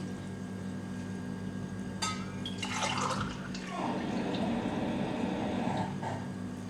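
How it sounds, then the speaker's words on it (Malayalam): Two cups of water pour into a pan for herbal tea with a gushing, splashing rush lasting a few seconds, close and moderately loud against a low background hum. "രണ്ട് കപ്പ് വെള്ളം ഒഴിച്ചു കൊടുത്തു."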